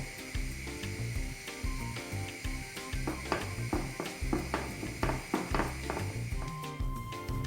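Soft crackling and sizzling of 200 grams of butter melting in a pot, with scattered clicks and taps over a steady low hum.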